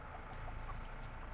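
Chicken clucking in the Texas Chain Saw Massacre video game, soft repeated clucks over a constant background hum, faint and without any voices.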